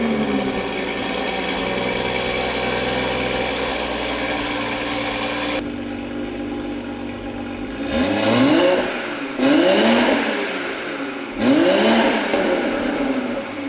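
2021 Toyota Supra fitted with a catless downpipe idles loudly, then fires into three sharp, rising revs in quick succession, close and raw with no talking.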